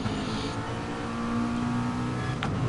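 Aston Martin race car engine in a racing video game, a steady loud droning whine at high revs with a brief higher-pitched rasp near the end.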